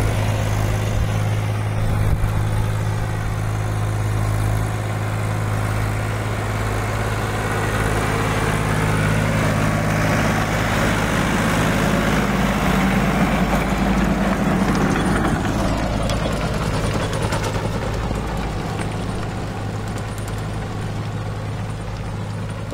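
Tractor with a rotavator working a sugarcane field after planting, clearing weeds between the rows: a loud, steady low engine drone with grinding, churning mechanical noise throughout, no voices.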